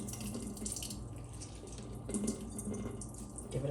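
Water drips and trickles steadily as a handful of grated cauliflower is wadded up and squeezed by hand over a sink, wringing out its moisture in a close, continuous wet sound with no talking.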